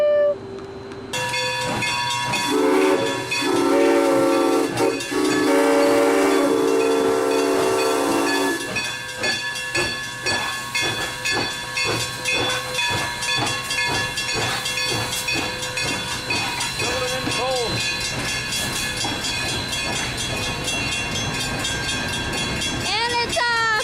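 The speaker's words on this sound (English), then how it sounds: "here is a train. Look at all that smoke." A steam locomotive on the New Hope Ivyland railroad pulls away with loud hissing steam and a shrill whistle, then settles into rhythmic chuffing that gradually loosens; people talk faintly in the background.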